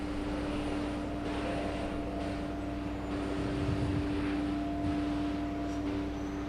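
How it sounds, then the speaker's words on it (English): A Copa Airlines airliner taking off at JFK airport in New York, bound for Panama City, a steady distant engine roar with a constant whine, faint and unbroken, with no talking. "This one is a takeoff heading to Panama City."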